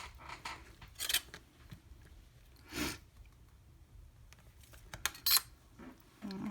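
Sharp blade snips trimming a polymer clay leaf cane on a work surface, a few separate crisp cuts and clicks spread out, close and fairly quiet with no talking.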